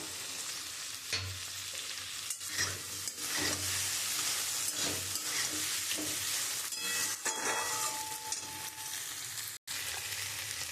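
Mustard spice paste with pointed gourd being stir-fried in a pan, a close crackling sizzle with repeated scraping spatula strokes over ten seconds, one brief dropout near the end, no speech.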